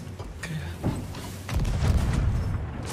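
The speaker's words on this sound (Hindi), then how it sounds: "मारो इसके तोप से" Cannon fire in the Sea of Thieves video game booms out as heavy low thuds, one around the middle and a sustained rumbling blast toward the end, with voices talking over it.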